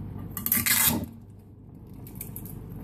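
A baking pan set down with a brief metallic clatter and scrape in a home kitchen, one short burst followed by quiet room tone.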